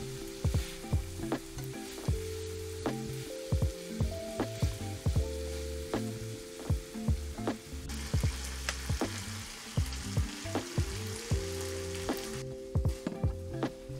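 Chicken sizzles steadily in a hot frying pan, with repeated sharp clinks and scrapes of a utensil stirring throughout. No voices.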